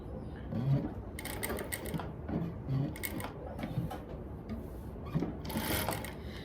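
A sewing machine stitches fabric for a dress, running in short bursts with rhythmic mechanical clatter and pauses in between, close and moderately loud, with no talk.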